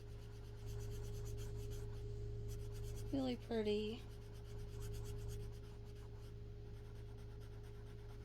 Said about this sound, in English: It's fun using this black marker on this paper for some reason.